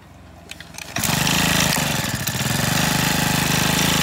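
A KOSIN K35 35cc four-stroke mini Japanese water pump engine catches at about one second and runs loudly and steadily with a fast, even putter close by, with no voices.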